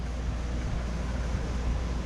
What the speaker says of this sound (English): turn on the AC and the fan